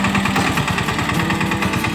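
An Eicher 181 mini tractor sowing groundnut runs with a loud, close engine chugging in a fast, even beat that holds steady from start to finish, with no talking.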